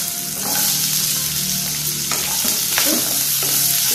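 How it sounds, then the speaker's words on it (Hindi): Onion, green chili, garlic and ginger fry in a pan with asafoetida for Maharashtrian misal, giving a steady, close sizzle broken by a few stirring scrapes. "इसे भी अच्छी तरह से भून लें, प्याज मिर्ची अदरक लहसुन को अच्छी तरह से भून लें।"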